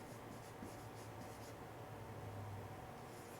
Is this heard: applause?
no